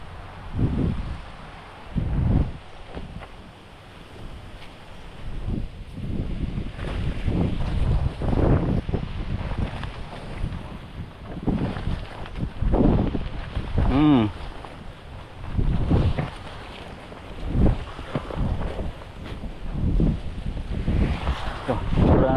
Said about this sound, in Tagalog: Lakas na naman yung hangin.